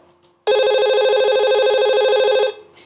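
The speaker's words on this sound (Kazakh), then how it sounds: "ұялы телефонның шырылы" A mobile phone rings with a loud, close electronic trill that pulses rapidly for about two seconds and then cuts off, heard alone.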